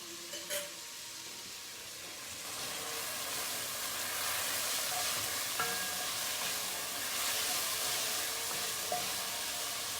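Bacon sizzles and spits steadily in a hot pan, a broad close hiss that swells after a couple of seconds and holds, with a few faint clinks at the start.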